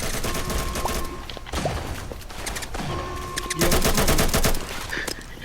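Rapid bursts of gunfire in the Roblox game Mad City, loud and close, firing in several dense volleys separated by short pauses.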